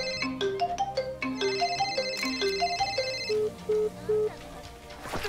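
A video game phone's ringtone for an incoming call, a bright, repeating melodic chime played in quick stepped notes, close and clear, with a few faint voice sounds.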